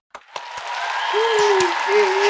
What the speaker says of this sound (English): Let's give a round of applause for Myron Welik.